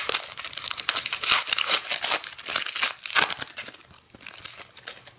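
Foil wrappers of 2012 football trading card packs crinkle and tear close up in quick bursts, loud crackling followed by quieter handling.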